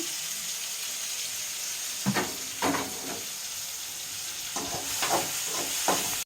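Prawns frying in oil in a pan give a steady sizzle, broken by a few brief stirring scrapes and clatters near the middle and end.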